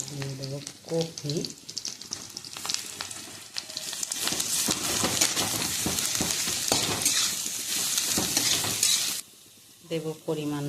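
Chopped kohlrabi hits hot oil and is stir-fried in a pan with onion, chili and garlic: a loud, crackling sizzle with repeated scraping stirs, and someone speaks briefly before and after.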